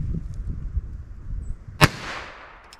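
A single sharp gunshot from a Heritage Rough Rider .22 revolver cracks out close and loud against a quiet outdoor background, followed by a brief fading echo.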